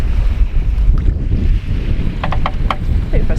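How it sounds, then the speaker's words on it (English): Wind gusts buffeting a sailboat under a centred mainsail with foresails taken in, a loud rushing roar with heavy microphone buffeting, water wash beneath and a few faint higher clinks near the end. "It's actually come back as well now, the wind."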